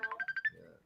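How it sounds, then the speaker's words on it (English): A mobile phone ringtone chirps in a quick run of about six even electronic pulses, fairly close and clear, then cuts off into a soft rustle. "Is your phone going off?"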